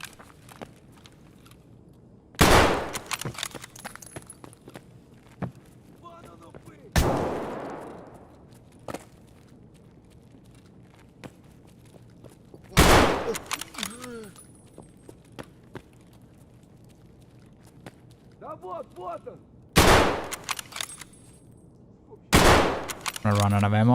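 Gunfire in the video game Escape From Tarkov: five loud separate shots or short bursts spaced several seconds apart, each with a decaying echo, over quiet footsteps and movement.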